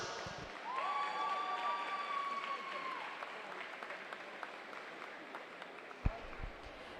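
Applause for backstroke swimmers finishing a heat at a university swimming championship, steady clapping from a crowd in an echoing indoor pool hall, with a long whistle tone over the start and a brief thump near the end.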